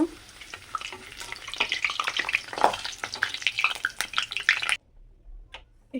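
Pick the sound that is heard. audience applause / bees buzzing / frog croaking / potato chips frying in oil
potato chips frying in oil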